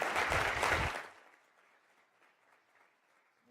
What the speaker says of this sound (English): So let's give a round of applause to welcome to Emily.